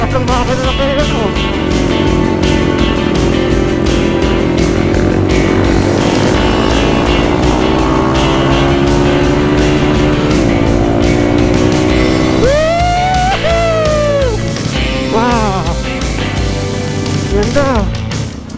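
A motorcycle engine strains loudly and continuously while climbing a steep uphill road near the sea at General Nakar, its pitch slowly rising, with people talking and exclaiming over it toward the end.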